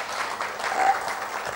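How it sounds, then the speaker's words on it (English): Applause from an audience at an engineering and entrepreneurship talk as a memento is presented, a brief, even burst of many hands clapping with no voices over it. "A big round of applause."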